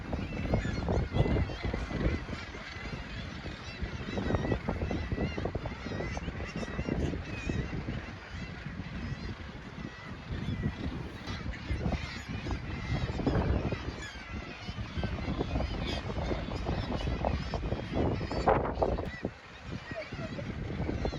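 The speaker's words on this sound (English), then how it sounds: "This is the northern gannet, the yellowhead." Northern gannets calling at a breeding colony at Cape St. Mary's, Newfoundland, a dense, continuous chorus of harsh honking cries blending into a steady wall of sound with no gaps.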